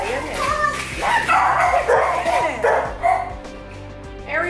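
Young puppies out playing bark, yip and whimper in quick repeated bursts, close and loud, with several overlapping voices that trail off into softer yelps near the end.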